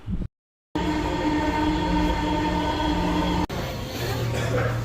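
Riding a metro rail train from Mohammadpur towards Uttara: a steady, loud interior rumble of the moving carriage fills the whole stretch, broken by one brief dropout near the start.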